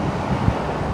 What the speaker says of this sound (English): we've got some wind this morning